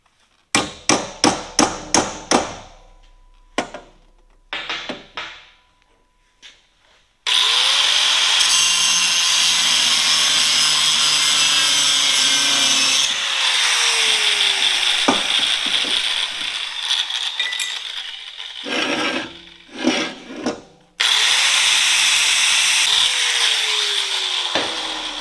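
Power tool cutting pieces off an aluminum demolition derby fuel tank: short ratcheting clicks first, then a loud, sustained grinding cut with brief interruptions and a final burst, close and harsh, with no talking.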